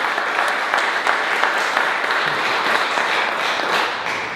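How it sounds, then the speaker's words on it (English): Steady applause from a room of political club members at an evening meeting, many hands clapping evenly throughout with no break, fairly loud and close. "I'd ask for a round of applause"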